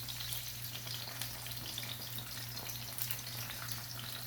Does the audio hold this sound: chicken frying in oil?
yes